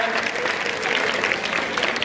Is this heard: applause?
yes